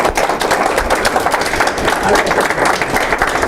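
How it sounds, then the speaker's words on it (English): Dense applause from an audience fills the whole stretch, many hands clapping at once, loud and close, with a few voices mixed in. "Round of applause for Karlie."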